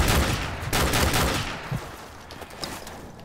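Rapid bursts of gunfire in the video game Call of Duty 4 crackle loudly up front, then taper into scattered shots fading in the background.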